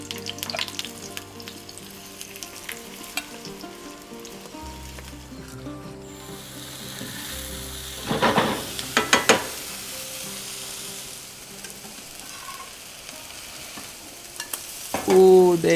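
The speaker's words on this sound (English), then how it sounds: "I just heat a little oil in a non-stick pan, then cook the dough until crisp," Crumpet dough fries in a little hot oil in a non-stick pan, giving a steady, close sizzle throughout, with louder bursts of crackling and stirring midway and again at the end.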